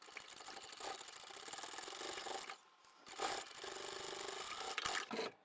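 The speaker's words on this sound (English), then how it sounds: "now we're going to sew up those last 3 corners" A sewing machine stitches up the corners of a crossbody satchel bag in bursts of rapid mechanical whirring. The runs are broken by short pauses, close and fairly quiet, with no talking.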